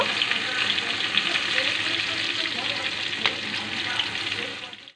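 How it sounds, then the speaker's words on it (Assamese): Chillies and kalonji seeds frying in oil for a mustard fish curry, a steady close sizzle and crackle running throughout without pause. "আৰু এই জলকীয়া আৰু কালজিৰাখিনি 30 ছেকেণ্ডমান আপুনি ফ্ৰাই কৰি থাকিব।"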